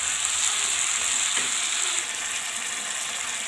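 Capsicum stirred with dry spices, salt, black pepper and chilli in a frying pan gives a steady, loud hiss and sizzle with a faint scrape of stirring, no voices.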